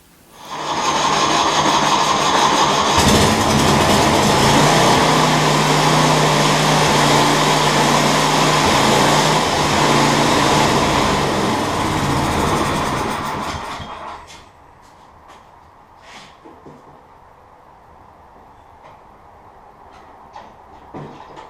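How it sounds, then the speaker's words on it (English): A loud, steady engine runs on an MTD Yard Machine snow blower outdoors for about fourteen seconds, then cuts off abruptly, leaving quiet background with a few faint clicks. "take the snowblower outside and start up the engine and run it for a few minutes"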